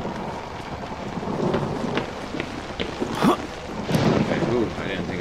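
Thunder and rain in the Outlast video game: steady heavy rainfall with rumbling thunder, crackling strikes and a louder burst near the middle.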